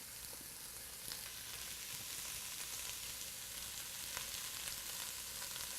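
Garlic and onions frying in a touch of oil in a pan, a steady, faint, even sizzle with a few small pops, continuous and without voices.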